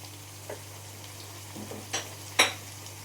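Salted mutton for a mutton masala is stirred in a pan: a low, quiet background hum, a few soft utensil scrapes and clinks, then one sharper scrape near the end, with no voices.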